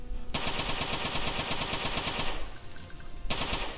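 Rapid automatic gunfire from a modded Doom II game (Scythe with Hunter Reinforced Zombies and Call of Doom Tarkov), loud, evenly pulsed bursts running nearly continuously with one brief lull in the middle.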